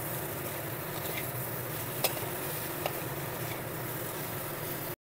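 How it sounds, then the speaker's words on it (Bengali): Pointed gourd and potato pieces stir-frying with spices in a pan give a steady, soft sizzle throughout, with a couple of faint ticks of a spoon against the pan and no talking. "এই আলুর সাথে পটলটাও বেশ ভালো করে কষে নেব আরও 2-3 মিনিট ধরে"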